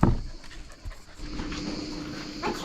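A dog pants rapidly and steadily close by, a breathy rhythmic huffing with a brief louder bump at the start, no talking.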